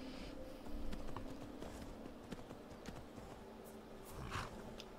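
Horse hooves clip-clop in the video game Skyrim, a steady walking rhythm of soft repeated thuds under a constant ambient game background, moderately quiet with no talking.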